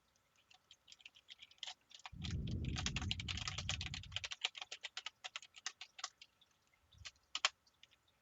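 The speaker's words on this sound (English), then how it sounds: "So now I can go back and type in the left function again." Rapid keystrokes on a computer keyboard while entering a function in cabinet design software, close and fairly quiet, irregular bursts of clicks with a brief low rumble partway through and no talking.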